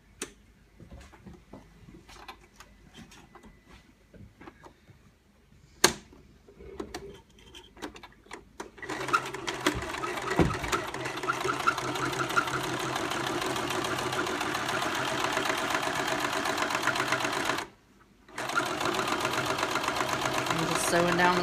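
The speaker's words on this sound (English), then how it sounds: "Sewing down the side" A sewing machine runs a steady, close, humming stitch on a seam for a storage case or book bag, pausing once briefly before resuming, after earlier scattered clicks and handling noises, with a voice talking at times.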